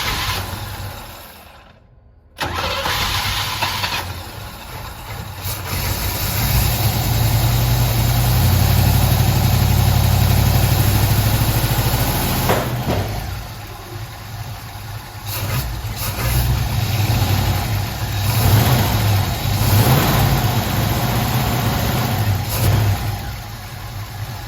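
A 1969 Chevrolet Camaro engine warms up, starting with a brief catch and then idling with a deep rumble that swells into a sustained rev before easing back to a rough idle, loud and close.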